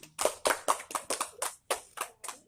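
A small class claps hands for a student in a loose, rhythmic burst of about ten distinct claps, close and fairly quiet.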